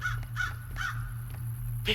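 A crow in the video game Secret Neighbor caws three times in an even rhythm over a low steady hum, and a sharper sound follows at the end.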